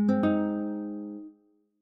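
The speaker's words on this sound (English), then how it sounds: "This is an acoustic guitar." An acoustic guitar is struck twice in quick succession, and the rich ringing chord then fades away over about a second before going silent.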